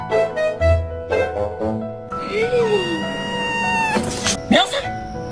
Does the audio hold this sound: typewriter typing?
no